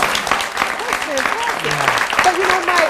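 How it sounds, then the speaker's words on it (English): Studio audience applauding on a talk show, a light patter of clapping running under people talking throughout. "That deserves a round of applause."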